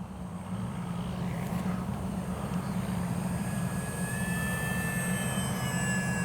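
An X-Fly Spitfire RC model warbird on its maiden flight drones steadily overhead with a constant engine whine and a faint rising tone, loud and unbroken throughout.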